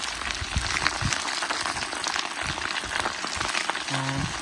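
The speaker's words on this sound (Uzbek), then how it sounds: "Endi dumba yog'larni solamiz hozir" Chunks of sheep tail fat hitting a hot pan set off a steady, dense crackle and spatter that keeps up throughout, with a brief low hum near the end.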